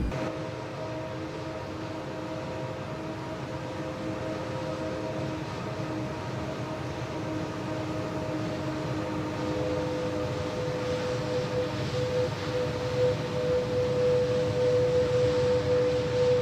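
An Airbus A330-900neo in the Toliss flight simulator game gives a steady, fairly faint jet engine drone with a sustained whining tone that grows slightly stronger toward the end.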